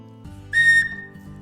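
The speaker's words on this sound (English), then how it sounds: "Even with the whistle, it will print the whistle with the P inside it and it will work." A single short, shrill blast from a 3D-printed plastic whistle with a pea inside rings out clearly over low background hum.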